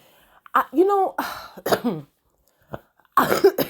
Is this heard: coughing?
yes